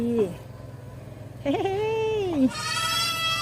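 A baby dwarf goat on a farm in Phuket bleats twice close by, a short cry followed by a longer wavering one, with a voice talking softly in between.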